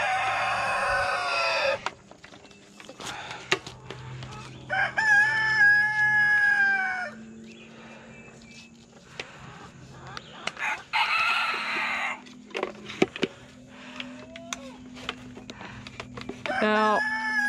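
Backyard chickens and a rooster cluck and crow from a coop, wanting out, in loud irregular bursts separated by quieter gaps, with a person talking briefly nearby.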